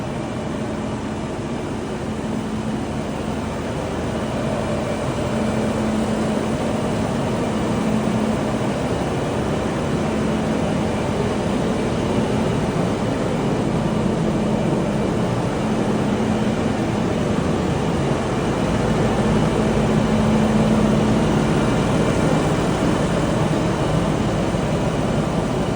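A Fendt 724 tractor fitted with triple mowers idles inside a shop, giving a loud, steady engine drone with a low hum that holds unbroken throughout.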